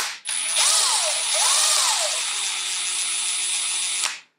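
A Milwaukee power drill with a Torx T25 bit whirs loudly and steadily with a high whine, its pitch rising and dipping twice before it settles and then cuts off.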